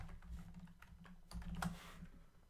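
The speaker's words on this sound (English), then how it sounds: "I'm just going to type equals match" Someone types a spreadsheet formula on a computer keyboard, with soft, quick keystrokes landing in irregular bursts, close by and fairly quiet, with no speech.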